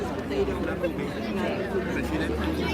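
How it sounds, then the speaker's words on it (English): A crowd of children and families gathers at a Chicago rally in North Center, producing a steady babble of overlapping voices and chatter close around. "So many children and families in the crowd."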